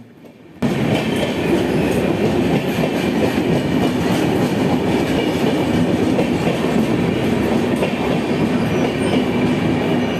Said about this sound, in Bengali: এই দেখো একটা ট্রেন চলে এসছে